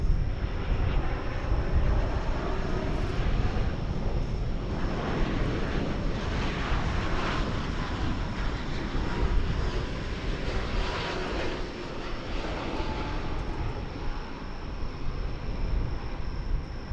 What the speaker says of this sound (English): We are waiting, however, for American Flight 940 from Santiago, and I see it, and you'll see it here in a sec.